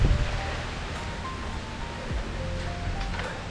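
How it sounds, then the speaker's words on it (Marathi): Strong wind blows near the sea by the Mandwa lighthouse, a continuous rushing roar with low, buffeting gusts, loudest at the start and again near the middle. "हा वारा सुटलाय म्हणूनच थांब बोललो."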